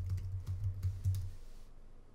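Keys tapped on a computer keyboard while working in AutoCAD, a quick run of about five clicks, close and fairly quiet, ending in a short silence.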